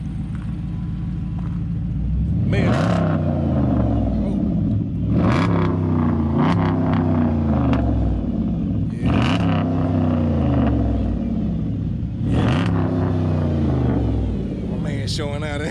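A stock Dodge Challenger with a 6.1 Hemi V8 rumbles loudly up close, revving in four repeated surges over a deep idle, while someone talks briefly.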